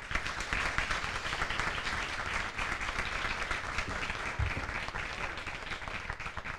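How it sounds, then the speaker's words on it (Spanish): An audience applauds at an event honouring an author, dense sustained clapping from many hands, steady and fairly loud throughout. "Solicitamos un merecido aplauso para los tres."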